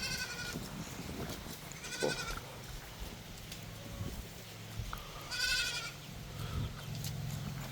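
Goats bleating several times over a steady outdoor background, some calls nearer and louder, with a brief exclamation from a person.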